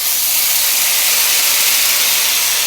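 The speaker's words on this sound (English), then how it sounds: "tea to deglaze my pan" Tea poured into a hot pan to deglaze it sends up a loud, steady hiss of sizzling steam, broad and unbroken from start to finish, close and with no talking.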